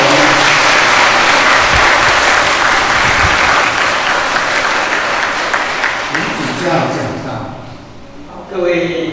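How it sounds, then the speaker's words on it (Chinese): A church congregation applauds during a Catholic diaconate ordination Mass, a loud, sustained burst of clapping that fades toward the end as a voice speaks. "我们大家一起鼓掌表示赞同"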